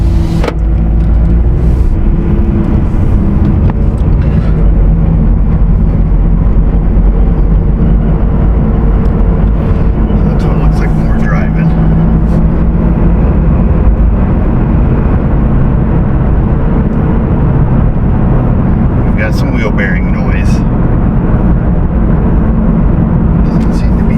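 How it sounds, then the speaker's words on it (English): Interior of a car rolling along with choppy tires and a worn wheel bearing, a loud, steady low road roar and hum throughout, with faint intermittent clicks and rattles. "Choppy tires on it, plus a little bit of wheel bearing noise going on."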